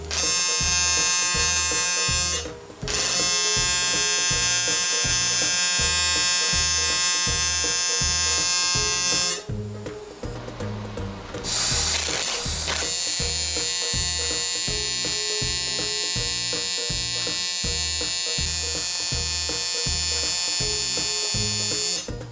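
Aluminium legs for a camper van solar panel mount are welded, giving a steady, insistent electric buzz that runs nearly nonstop, with a rougher, hissier stretch in the middle and no voices.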